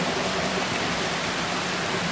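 Heavy rain pours onto Sugar Creek, a smallmouth bass fishing stream, producing a dense, unbroken hiss of falling water that stays loud and constant from start to finish.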